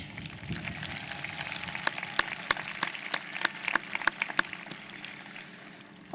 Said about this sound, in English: let's give ourselves a big round of applause